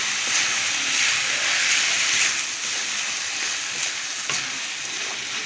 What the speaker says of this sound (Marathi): त्याच्यामध्ये टाकून चांगलं भाजूया पूर्ण भाजून असं घेऊया